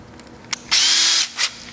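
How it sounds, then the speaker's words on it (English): A short power drill burst whirs for about half a second, drilling a hole for a door pull on a MINI, preceded and followed by brief taps and a quick rev, close by with no talking. "basically you're just going to drill it like that"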